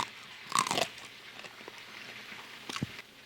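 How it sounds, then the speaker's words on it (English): A crunchy bite into a breaded fried chicken tender, homemade in a KFC style, gives a loud close crackling crunch, then quieter chewing and a second sharp crunch near the end. "You gotta hear this crunch. It is so crunchy."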